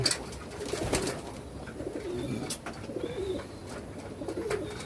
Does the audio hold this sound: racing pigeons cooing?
yes